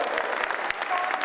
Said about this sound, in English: how about a round of applause for the Framingham High School debate team?